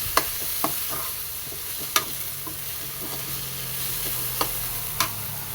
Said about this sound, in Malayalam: ഇതിലേക്ക് ഇനി നമുക്ക് മുട്ട ഒഴിച്ച് കൊടുക്കാം.